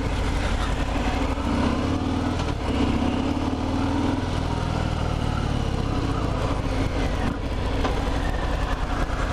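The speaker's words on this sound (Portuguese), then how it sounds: "Ela tem um ronco mais bandidão." A 2020 Harley-Davidson Fat Bob's V-twin rumbles close by with a deep, continuous throb that swells slightly in the first few seconds, with no one talking over it.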